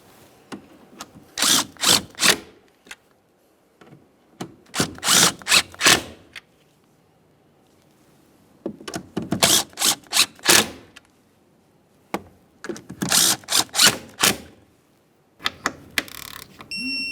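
Power drill snugging the mounting hardware of a towing mirror on a 2015-2020 Ford F-150, running in several short repeated bursts with pauses between them, close and loud, with no talking.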